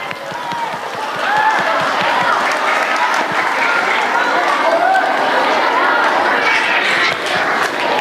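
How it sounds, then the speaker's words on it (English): Applause from students at a school end-of-term assembly for the cross-country team, a dense steady crowd clapping across the whole stretch, with scattered chatter and a few cheers mixed in. "Golf clap. Give it up."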